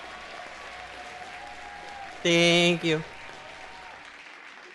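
A crowd of audience members bursts into applause, a short, loud clap burst that cuts off quickly, with a voice speaking briefly before and after it over quiet room tone.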